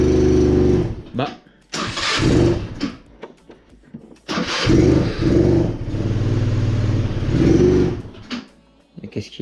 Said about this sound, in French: premier démarrage, on accélère un poil